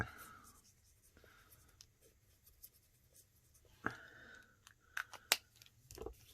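A Wink of Stella brush pen strokes over small stamped flowers on card stock in a quiet room, giving soft scratchy strokes broken up by a few brief taps and clicks near the end.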